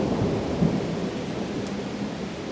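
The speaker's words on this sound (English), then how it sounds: "We got shots of a mud dauber wasp and some lightning and thunder here." Thunder rolls through a thunderstorm moving in, heard as a continuous deep rumble over steady rain, with one slightly stronger swell early on and no talking.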